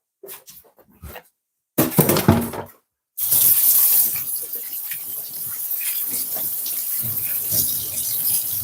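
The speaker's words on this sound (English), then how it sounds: "Just giving my hand a bit of wash." A running kitchen tap splashes as hands are washed beneath it, opening with a few short bursts and gaps, then a steady close gush of water, with no talk.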